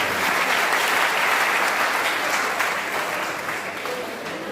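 An audience at a Dainik Jagran kavi sammelan poetry gathering in Sitapur breaks into applause, dense sustained clapping that tapers slightly toward the end, with some voices in the crowd.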